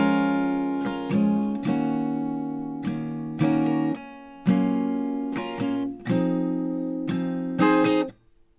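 Acoustic guitar chords of "No More Regrets" by almost monday, strummed slowly and evenly down, down, down, up, each chord ringing out in clear, separate bursts with brief gaps, nothing else playing.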